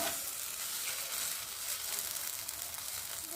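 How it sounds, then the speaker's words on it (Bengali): Mashed bean paste (sim bata) sizzles and fries in hot oil while being stirred, a steady close crackling hiss that fills the moment without any talk. "তেলের মধ্যে দিয়ে ভালো করে নেড়ে নিয়ে তো দেখো ছেড়ে যাচ্ছে"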